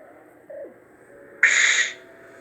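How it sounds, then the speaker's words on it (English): A Star Wars training-remote sound-font track on a Graflex 2.5 CFX NeoPixel lightsaber: a low steady electronic hum, then a short descending chirp and a loud bright buzzing burst lasting about half a second, with no talk. "that sounds like the training remote used on the Millennium Falcon."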